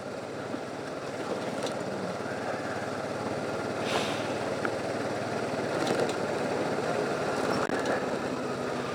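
A 1998 Honda Deauville NT650V motorcycle engine runs on old fuel after long storage, a steady low idle continuing evenly with occasional faint clicks and knocks over it, moderately quiet.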